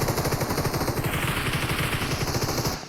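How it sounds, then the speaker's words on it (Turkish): Rapid enemy gunfire in the battle game PUBG Mobile, a steady dense rattle of repeated automatic shots sustained at close range for about three seconds, loud and continuous with no talking over it. "Adam vuruyor tak tak tak."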